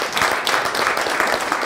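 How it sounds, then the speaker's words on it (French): An audience at a televised startup pitch contest applauds a contestant, a dense, steady burst of clapping from many hands, close and continuous. "Je vous demande d'applaudir"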